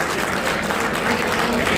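A dense round of applause at a cricket fund-raiser event in Sydney, continuous clapping filling the room at steady loudness.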